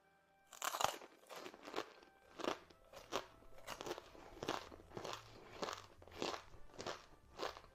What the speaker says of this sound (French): allons-y et goûtons enfin l'une de ces bouchées